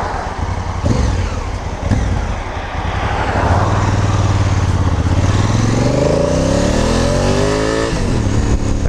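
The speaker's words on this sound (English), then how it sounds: "I'm trying to keep the lid up just so you can hear the absolutely amazing sound from this bike" A 2016 Honda CRF1000L Africa Twin touring motorcycle accelerating from a pickup in first gear, a loud rising engine note heard from the saddle over heavy wind rush, climbing in pitch through the run.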